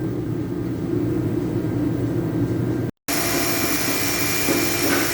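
Steady, loud whine of an angle grinder shaping steel parts for a homemade wood stove, running continuously with a brief cut-out near the middle, no talking.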